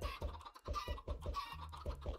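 Chickens in the video game Minecraft give quick rhythmic clucks, about a dozen short, evenly spaced pulses, faint and alone.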